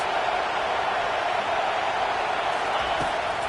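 Stadium crowd in a college football video game, Georgia at Michigan, a dense steady roar filling the space on a third-down play, constant and loud without letup, with faint commentary voices underneath.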